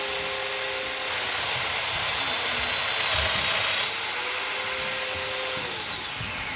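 Domino jointer machine cutting into a wooden rail, a steady high whining motor with a faint pitch shift as it plunges, loud and close, with no talking.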